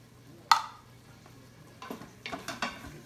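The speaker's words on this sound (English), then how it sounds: "Get that stirred in there." Chili being stirred in an Instant Pot, a single sharp clack of spoon on the pot followed by a quiet pause, then a run of soft scraping, clinking strokes toward the end.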